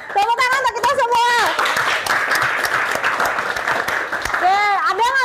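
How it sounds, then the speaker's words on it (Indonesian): A school physics class claps together, a brisk burst of many hands clapping in the room, with excited voices and a speaking voice before and after the clapping. "Tepuk tangan untuk kita semua"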